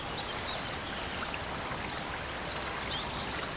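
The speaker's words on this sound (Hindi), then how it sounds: "उस और एक छोटा झरना है।" A small waterfall pours into a flowing stream in the wild, a dense, continuous rushing hiss of water that stays steady and close throughout.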